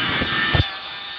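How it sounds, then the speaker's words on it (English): A steady video game aircraft engine drone with a high whine hums throughout, with a brief low thump near the start before settling into a constant rumble. "You can hear that like a engine rumble."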